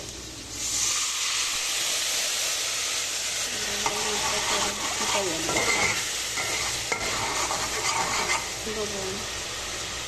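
Turmeric, chili and cumin powder with water sizzle and hiss in a hot pan over fried onions while being stirred, a steady loud frying sound with scraping under it.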